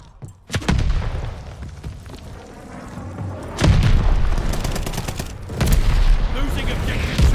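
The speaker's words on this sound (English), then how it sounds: "Allies calling a mortar barrage." Mortar barrage and gunfire in Call of Duty MW2, with heavy booming explosions landing in several loud bursts amid ongoing shots, while a voice talks over parts of it.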